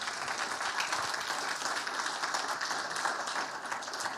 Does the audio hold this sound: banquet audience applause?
yes